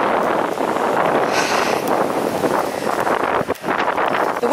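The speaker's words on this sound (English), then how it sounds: "The wind's behind me" Wind on a hill walk roars and buffets across the microphone, loud and continuous with brief gusty swells and no voices.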